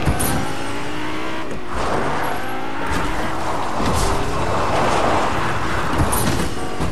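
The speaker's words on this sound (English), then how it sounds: "I gotta get in the car. I gotta drive." A car drives in Fortnite with a loud, steady engine roar that swells and eases as it accelerates, with tire noise throughout and no break in the sound.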